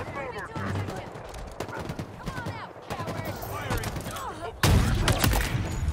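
Gunfire in Halo co-op, rapid bursts of shots crackling among other game sounds and voices, ending with a louder burst near the close.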